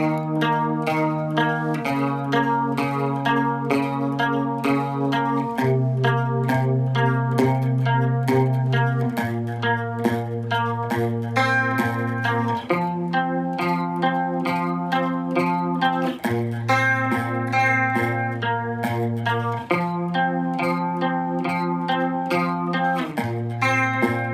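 Electric guitar switched from a clean tone to a distorted, crunchy one, playing sustained chords slowly and steadily through an effects unit, alone with no talking over it, while learning a Thai rock song.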